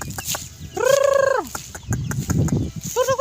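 Backyard fighting roosters roaming free cluck and call close by, with a couple of drawn-out crowing squawks among short, scattered clucks and rustling, and no talk.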